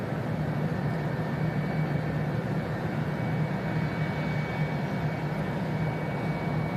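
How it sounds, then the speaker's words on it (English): A Singapore Airlines airliner on flight 52 taxiing out at Manchester Airport, a steady broad engine roar with a low hum, distant-to-moderate and unbroken, with no voices. "The Singapore is actually already taxiing out. It's the Singapore Flight 52 today,"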